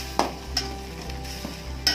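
Ginger garlic paste gets stirred into a roadside-style mushroom masala, a few distinct spoon scrapes and knocks against the pan over a low, quiet sizzle.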